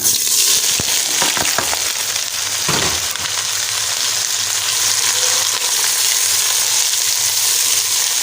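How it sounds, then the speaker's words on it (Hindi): Chopped onions fry in a cup of hot oil inside a pressure cooker, a loud, steady, close hiss and sizzle with a few sharp crackles and stirring knocks early on, no talk. "इतने हमारी प्याज फ्राई हो रही है"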